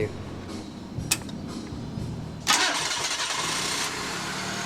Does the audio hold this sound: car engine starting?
yes